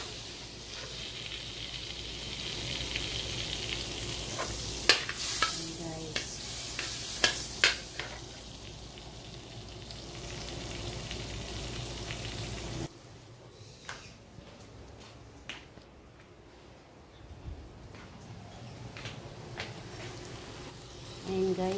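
Butter sizzles steadily in a pan as beef is fried, with occasional sharp ticks from stirring or a utensil against the metal. The sizzle drops noticeably partway through, and some voice is present.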